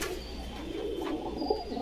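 A Bangla pigeon, one of a pure pair of a female and a black male at a Bogura pigeon market, coos softly and repeatedly, close by, over a low steady background hum.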